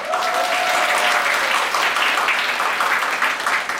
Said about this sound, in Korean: 항상 뜨거운 박수와 호응 부탁드리겠습니다. 연습 한번 해볼까요?